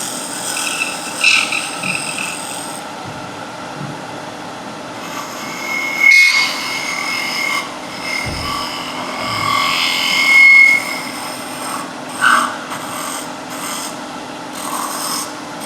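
Spindle gouge scraping a turned wooden sphere on a lathe, a continuous close rasping and rubbing with a few louder scrapes spread across the stretch, no voices.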